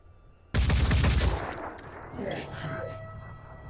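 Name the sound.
gunshots from the video game Blood and Titanium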